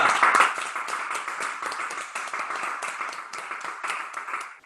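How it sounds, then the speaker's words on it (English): A small group claps during a live cooking class, a quick run of sharp overlapping hand claps that is loud at first and then fades a little, with no one speaking over it. "Hey, look at all these claps."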